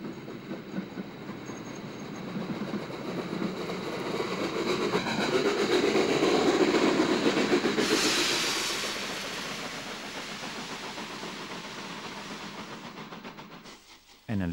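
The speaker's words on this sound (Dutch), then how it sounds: "De zware trein heeft twee 99ers nodig." A heavy train hauled by two class 99 locomotives rumbles past close by, swelling to a loud roar midway and then easing off with rolling wheel noise before ending abruptly.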